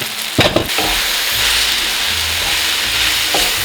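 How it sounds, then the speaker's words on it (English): Shallots and apple caramelize in a hot skillet on a stovetop with a steady, loud sizzle. A couple of stirring scrapes come near the start, and no one speaks. "I'm gonna add the shallots and the apple right to the skillet. And I'm just going to let this caramelize on the stovetop"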